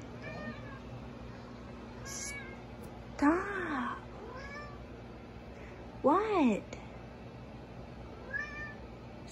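A cat meows indoors, two loud drawn-out wavering cries close by plus a few softer shorter mews, with a person speaking briefly between them.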